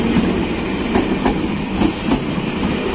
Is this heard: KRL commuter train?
yes